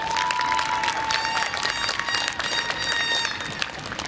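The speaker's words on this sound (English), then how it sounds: "Let's give her another round of applause." Sustained applause from a crowd at a 2024 high school graduation ceremony, steady clapping filling the space at moderate volume for several seconds.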